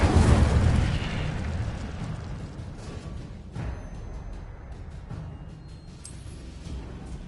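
An Incendio fire spell cast in a Hogwarts video game bursts out with a loud whooshing blast that fades into a crackling, rumbling tail, alone without voices.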